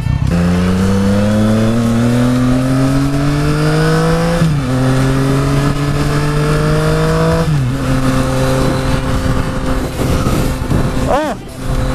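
Triumph Street Triple 765R motorcycle engine and exhaust revving hard through the gears, a loud, close, rising howl that drops at each shift, with a final snarl near the end.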